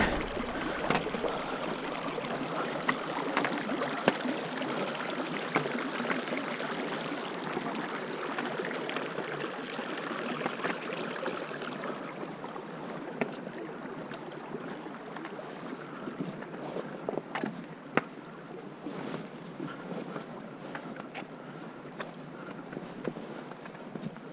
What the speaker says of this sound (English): River crossing, first thing in the morning.